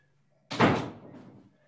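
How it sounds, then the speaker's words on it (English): A room door swings shut with a single solid thud close by, followed by a brief rattle of the latch as it settles, in an otherwise quiet indoor space. "I'm just going to close my door."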